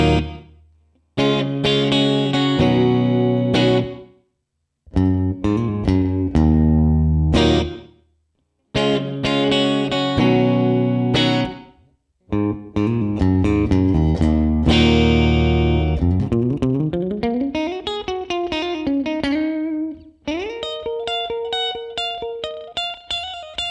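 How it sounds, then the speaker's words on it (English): Electric guitar run through the room reverb of a Valeton GP-100 multi-effects unit, loud strummed chords and single-note phrases with short pauses between them, each ringing out into a brief roomy tail. "let's start things off with the room reverb."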